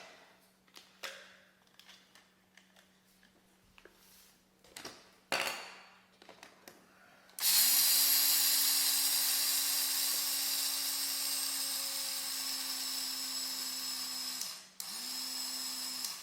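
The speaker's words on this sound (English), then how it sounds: "And put it in your coffee bean grinder, and then grind it up." A coffee bean grinder grinding flaxseed starts after a few soft clicks and handling noises, whirring loud and steady with a high motor whine, then cuts out briefly and restarts for a final short burst.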